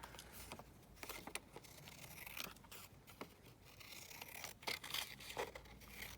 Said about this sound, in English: I'm going to just tear it, I think. Tear that in half.